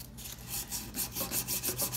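Guitar frets being hand-sanded with abrasive grit pressed under a finger on a Blueridge guitar, a close, dry rasping rub repeated in about eight steady back-and-forth strokes.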